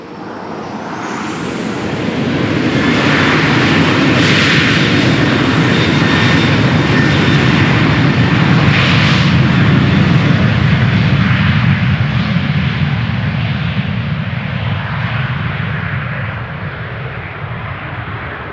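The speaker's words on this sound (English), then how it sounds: "Ryanair 737 did take off in front of us, as I figured it would." A Ryanair Boeing 737 takes off from Amsterdam Schiphol on runway 36L, its jet roar swelling over a few seconds into a loud, sustained broadband rumble that holds steady and slowly eases near the end, with no one talking.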